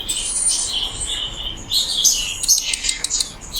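Budgies chirping at a night street stall in Zhaoqing, China: a busy run of high, quick chirps and twitters, fairly close, with faint background bustle.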